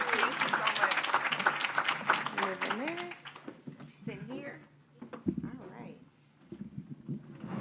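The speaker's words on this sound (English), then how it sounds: "Let's give a big round of applause" Audience applause at a medical college panel, dense clapping from a crowd that fades after a few seconds as a voice begins speaking over the room.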